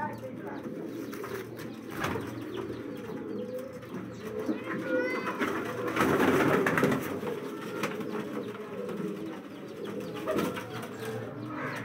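Pigeons at a low flyer pigeon breeding and flying setup coo softly and repeatedly in the background, with some human talk and handling noise mixed in.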